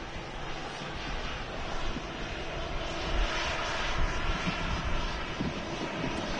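An EasyJet Airbus A320 jet at Manchester Airport gives off a steady, broad engine roar that holds at an even, moderately loud level throughout, swelling slightly midway, with no talking.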